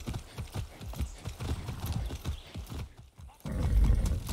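Steady hooves of a horse in Far Cry 6 clip-clop in an even rhythm close by, joined by a brief whinny and a louder snort or rumble near the end.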